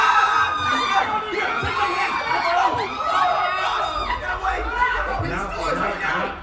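A convention-panel audience imitates a panicked crowd fleeing zombies, many voices screaming, shrieking and laughing together in a dense, loud, sustained wall of noise.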